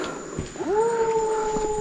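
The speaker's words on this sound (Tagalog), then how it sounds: "na naman yung alulong ng aso" A dog howls outdoors among fallen coconuts: one long wail slides upward about half a second in, then holds a steady, moderately loud note to the end over light background noise.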